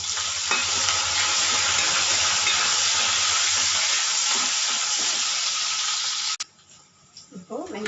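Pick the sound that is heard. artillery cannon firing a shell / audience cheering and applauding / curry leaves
curry leaves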